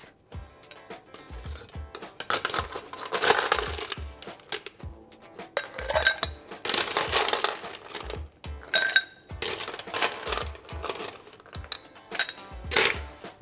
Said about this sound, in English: that all gets stirred down with ice